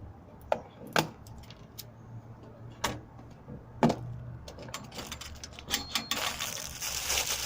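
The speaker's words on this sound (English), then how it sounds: "Let's just cut the seal first." Knife or cutter work on the seal of an army-issue Christmas box ammo tin, with scattered sharp metallic clicks and taps, then denser scraping and rustling toward the end.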